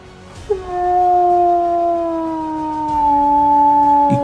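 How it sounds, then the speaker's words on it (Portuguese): Wolf howling on a frozen night, a single clear, sustained tonal howl that rises briefly and then slowly falls in pitch, close and alone against quiet background noise. "com o uivo rasgando novamente as madrugadas congeladas"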